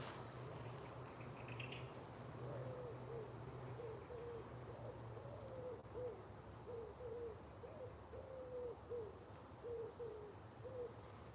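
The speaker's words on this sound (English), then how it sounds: "Wood pigeons." Soft, repeated cooing calls from wood pigeons in the distance, a steady series of low hoots over a constant rumbling background.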